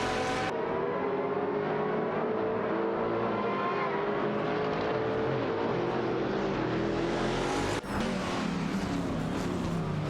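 Koenigsegg CCGT and Lister Storm GT race cars in a racing video game, a continuous high-revving engine drone with rising pitch through acceleration, a brief dip at a gear change, then the engine pulls again.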